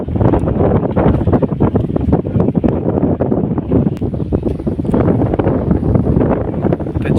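Cold wind gusts at Willingdon Dam in Junagadh, buffeting the microphone in loud, continuous rumbling blasts that surge and ebb throughout.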